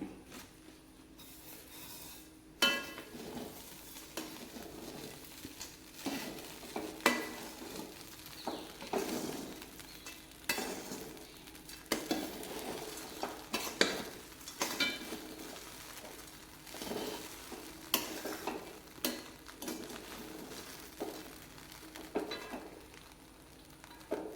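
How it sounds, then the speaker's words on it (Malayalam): Poha mixed with a savory snack mixture is stirred in a pan, with repeated scraping and rustling strokes at an uneven rhythm, fairly soft and close, without speech. "മിക്സ്ചർ ഇത് മൂന്നും നമുക്ക് ചേർത്ത് കൊടുക്കാം എന്നിട്ട് നന്നായിട്ടൊന്ന് ഇളക്കാം"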